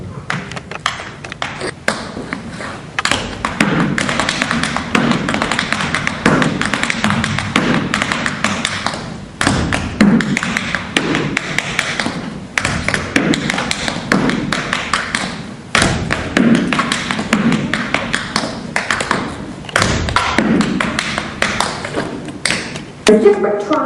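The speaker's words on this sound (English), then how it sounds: "And now I'm going to show you an Irish jig." Irish jig tap dancing on a stage floor, with fast, dense runs of sharp taps and heavy stamps that keep up a lively beat, close and loud, with brief pauses between phrases.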